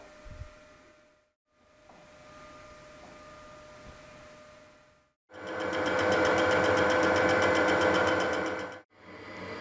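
A machine cuts a curve in metal at 480 RPM with half-millimetre cuts. A steady mechanical whir runs for a few seconds, pauses, then comes back much louder and denser for several seconds before stopping briefly.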